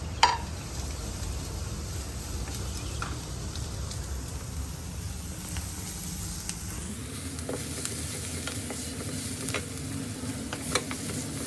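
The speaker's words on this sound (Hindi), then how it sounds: "इस टाइम पे मैंने फ्लेम स्लो कर दी है, जिससे मेरे वेजिटेबल्स जले नहीं, बटर भी नहीं जले। And I am just sorting, just keep stirring it." Onions and carrots sauté in butter over a low flame, giving a steady, close sizzle with occasional soft scrapes and taps as the vegetables are stirred in the pan.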